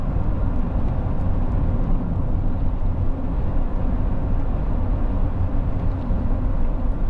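A Honda CR-V 2.0 i-VTEC EX station wagon 4x4 cruises along, a steady low engine and road rumble heard from inside the cabin, smooth and unbroken.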